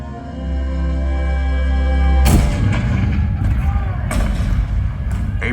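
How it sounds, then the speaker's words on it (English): A sudden heavy boom strikes about two seconds in, followed by rumbling and further sharp blasts over a low droning background, in a theatre show's depiction of the cannon fire at Fort Sumter in 1861. "The cannon spoke for war."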